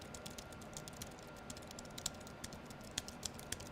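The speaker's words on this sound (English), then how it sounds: "Less noise on the keyboard." Quiet, low-noise computer keyboard being typed on, a steady run of soft, close key clicks with a few sharper taps, alone without speech.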